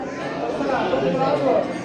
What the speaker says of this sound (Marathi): भाविकांची गर्दी आहे मंदिरामध्ये